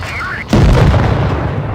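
A tank cannon fires in World of Tanks Blitz, a single heavy boom that cuts in sharply and rolls into a long rumbling decay, loud and close.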